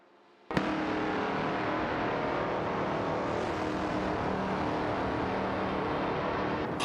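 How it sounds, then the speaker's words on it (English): A racing car in an AI racing game speeds away: the engine bursts in suddenly and holds a loud, steady roar to the end. "Racing car dashing away."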